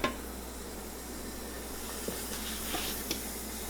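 Steam hisses steadily from a pressure canner as its lid is lifted off after processing sweet potatoes, a close, continuous broadband rush with a few faint metallic clinks near the end.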